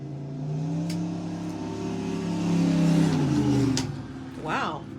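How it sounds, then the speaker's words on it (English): A loud car passes outside, its engine roar rising and swelling then fading away over several seconds, with faint room sounds and a voice-like layer underneath. "Wow, that's a loud car."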